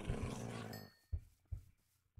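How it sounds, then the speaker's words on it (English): Dogs in a modded Minecraft game snarl and growl, a dense burst at first followed by three short separate growls, fairly faint in a quiet mix. "Oh my gosh, so many dogs"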